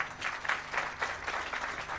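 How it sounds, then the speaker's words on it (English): A youth day celebration audience claps in a soft, steady patter of applause, faint and somewhat distant, with no talk over it. "Let's clap for him."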